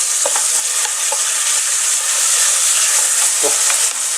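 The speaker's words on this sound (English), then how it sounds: "A little bit of sizzle, that's what you want to hear." Beef and garlic fry in a hot pan with a steady, loud, close sizzle and hiss, broken by a few soft scrapes of stirring.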